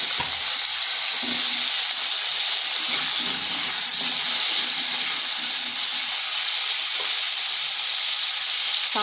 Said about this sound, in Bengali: ওই কড়াইতে আবার 1 চামচ তেল দিয়ে দিচ্ছি। দিয়ে দিচ্ছি আলুগুলো এইভাবে ডুমো ডুমো করে কেটে নিয়েছি।